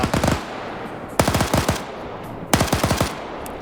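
Three bursts of RPK machine gun fire in a Vietnam-era multiplayer combat game, each a rapid string of sharp shots about a second apart, loud and close with no talk.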